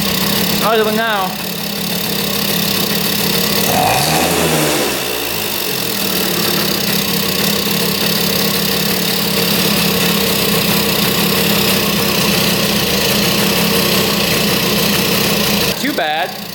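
Rare two-stroke motorcycle engine, freshly fitted with a new spark plug after fouling one, idles with a steady buzzing drone throughout, with a brief rising rev in the middle and a sharper blip near the end.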